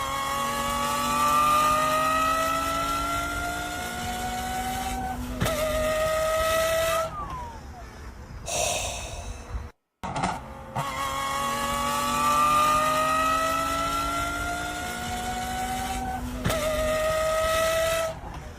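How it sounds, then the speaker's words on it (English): A Formula One race car engine played back, repeatedly revving through rising high-pitched whines with gear shifts, loud and sustained, broken by one short gap before the sequence repeats. "I love that sound. That Formula One sound."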